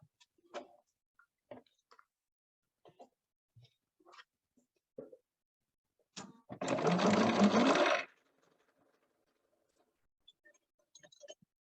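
A home sewing machine stitches a quilt seam in one short, steady burst of about a second and a half, surrounded by quiet clicks and handling of fabric.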